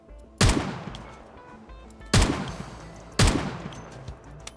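Three loud, sharp gunshots from a 5.56 rifle in a base-building video game, spaced about a second or two apart, each with a ringing tail that fades before the next.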